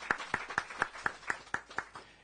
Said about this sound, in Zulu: Ake sishayile ihlombe lelo gama lelo nganza kwethu.